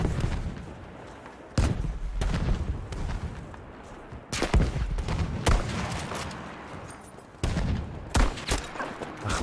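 Battlefield V combat with bursts of automatic gunfire and heavy booming shots, loud close volleys separated by brief lulls, tank battle chaos, no speech over it.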